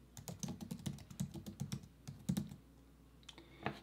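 Typing on a computer keyboard while entering a design search, a quick run of close, crisp key clicks for about two and a half seconds, then a pause and a couple of final taps.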